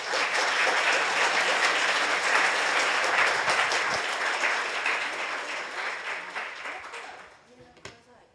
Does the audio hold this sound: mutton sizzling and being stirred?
no